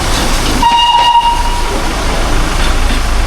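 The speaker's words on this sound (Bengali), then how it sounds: "এই হচ্ছে টয় ট্রেন বন্ধুরা" The Darjeeling toy train sounds its horn in a short, high blast, then continues as a loud, close rumble of rolling wagons and clattering rails.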